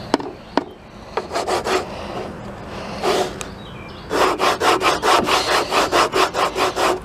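An object rubbed back and forth against a tree trunk, scraping out rough rasping strokes, a few scattered at first, then a fast regular run of about a dozen close, loud strokes with no talking.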